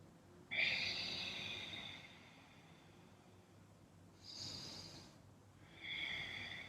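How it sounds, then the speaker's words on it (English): Deep, slow breaths in a quiet room during a yoga session, with three airy inhale and exhale bursts, each lasting around a second, spaced apart and fairly close to the microphone. "Draw your chin into your chest and breathe deeply here."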